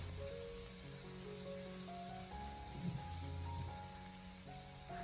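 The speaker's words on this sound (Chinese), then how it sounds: "再把切好的姜葱蒜还有小米辣添加进来，再继续的开小火，不停的翻炒一小会" Minced meat stir-frying over low heat with ginger, scallion, garlic and chili, giving a soft, steady sizzle with a brief stirring scrape in the middle, faint and close.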